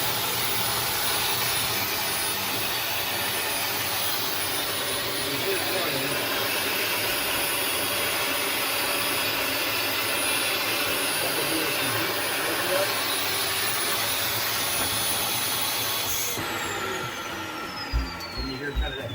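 A Dyson DC40 Animal vacuum cleaner with suction loss roars steadily at full power with a strained, airy whine, then cuts off near the end, leaving a few clunks.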